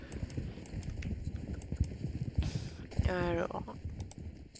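Hoofbeats of a pony trotting in the video game Star Stable, a soft rhythmic clip-clop under a person speaking French, with a brief whoosh and a tonal game sound partway through.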